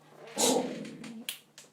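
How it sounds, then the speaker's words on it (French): A dog gives a short burst of barking and whimpering close by in a room where knitting is underway, a loud yelp followed by softer trailing whines and a sharp bark near the end, with no talk. "Désolée pour mon chien, ça c'est un classique."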